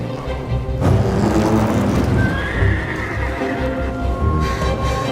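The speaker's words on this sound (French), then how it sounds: "les chevaux." Horses whinny loudly over a steady clatter of hooves, with one long, high neigh rising near the middle; close and busy throughout.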